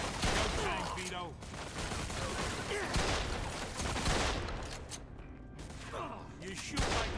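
Mafia II gunfire erupts in repeated sharp shots and bursts, a busy firefight with cracks scattered across the whole stretch, while people talk over the shooting.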